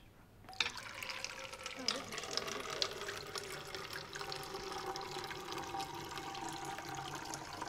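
Two liquids pour together into a container for a glow-in-the-dark chemistry demonstration at a school STEM night, a steady splashing, gurgling stream that starts abruptly and runs on, with faint voices around.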